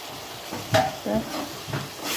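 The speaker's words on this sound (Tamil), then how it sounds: "சூப்பராக வெங்காயம் தக்காளி வதங்கிடுச்சு" Onions and tomatoes sauté in hot oil for an eggplant and drumstick kara kuzhambu, giving a steady soft sizzle with a few stirring scrapes of a spoon in the pan.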